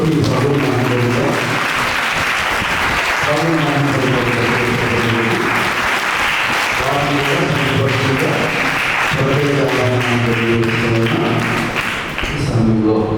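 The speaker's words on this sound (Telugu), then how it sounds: "గట్టిగా చప్పట్లు కొట్టి ప్రభువుని మహిమపరుద్దాం" Loud, sustained applause fills a church during a family blessing gathering, continuous clapping for about thirteen seconds with a faint tonal hum or music beneath it, tapering slightly at the end.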